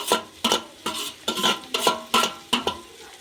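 Chicken dum biryani with mint being stirred in a pot, a spoon scraping the metal in about seven regular strokes with a soft sizzle underneath, close and clear.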